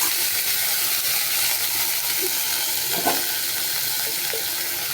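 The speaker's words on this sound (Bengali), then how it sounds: "এই যে বিনস, গাজর, ক্যাপসিকাম কেটে রেখেছি, এগুলো দিয়ে ভাজবো।" Chopped beans, carrot and capsicum frying in a pan give a steady, loud broadband sizzle that runs throughout, with a brief clatter of stirring near the middle and no talk.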